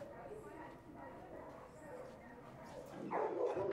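Dogs at an animal shelter housing about 35 dogs, yipping and barking amid kennel clatter, with a louder burst of barking near the end over a busy indoor din.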